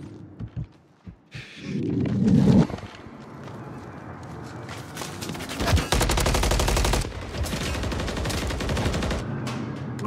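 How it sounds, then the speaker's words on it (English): Gunfire during a ranked online match of Call of Duty: Modern Warfare 3, with scattered single shots early, then sustained rapid automatic bursts from close and mid range, loud and dense over game ambience. "Where is this guy shooting me from?"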